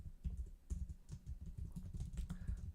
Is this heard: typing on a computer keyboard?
yes